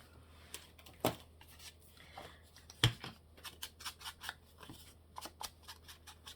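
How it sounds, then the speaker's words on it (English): Scissors cut paper for a handmade file folder, giving a series of crisp, close, quiet snips and trims at an irregular pace. "Scissors, let's just cut that,"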